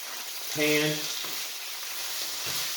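Pork, shrimp and vegetables sizzle in a pan with a steady frying hiss, broken by a few louder bursts as food is stirred or moved; close and continuous, without talk.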